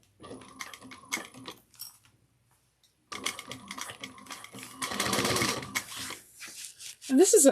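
A sewing machine stitches down a piece of a Bella bucket bag with a quarter-inch seam, running in close bursts that stop for a pause midway and then resume with some clattering handling noise.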